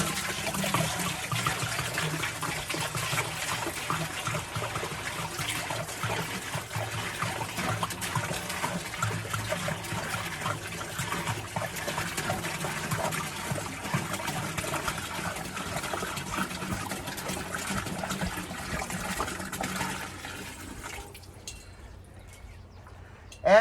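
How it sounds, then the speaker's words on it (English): Gathered wilderness water pours steadily into a pot for about twenty seconds, a soft continuous trickle and splash nearby that tapers off at the end. "and so all that water goes into my pot."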